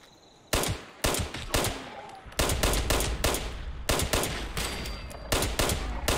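Gunfire from shooting enemies in Fallout 76 cracks out in loud bursts, with rapid clusters of shots and brief pauses between volleys.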